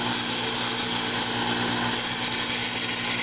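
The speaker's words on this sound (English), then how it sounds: "The project is these roller wheels to drill the center out." Power drill boring out the center of roller wheels made of resin-impregnated cloth material, a steady, loud high-pitched whine with constant grinding hum that holds unchanged for the whole stretch.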